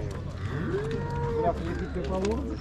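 A cow at a livestock sale gives a long, clear moo, then a second shorter call, close by over a low background murmur of the market.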